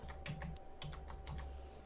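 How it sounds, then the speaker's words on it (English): Rapid, irregular keystrokes on a computer keyboard, clicking close and steady for a couple of seconds while a web domain name is entered, with no talking. "Just type in the name that you're wanting, and as you're typing, it will give you some suggestions"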